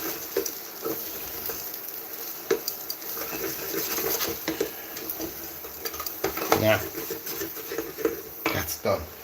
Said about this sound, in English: Start to mix in the rice.